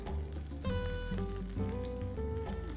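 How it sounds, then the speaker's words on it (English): Dover sole fries in a pan with a steady soft sizzle and crackle, under a faint tonal hum throughout. "I just let that cook for a little bit until the fish gets a little brown"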